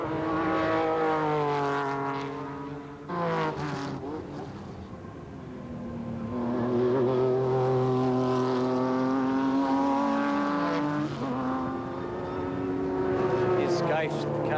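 A 1991 Formula Brabham (Formula Holden) race car at Eastern Creek driven hard, its engine note rising and falling through strong harmonic revs, with gear-change dips, over continuous commentary.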